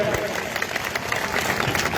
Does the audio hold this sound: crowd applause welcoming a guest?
yes